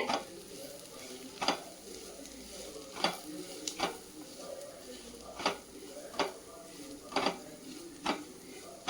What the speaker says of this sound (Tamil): இப்போ இதை எல்லாத்தையும் நல்லா கலந்து விட்டுட்டு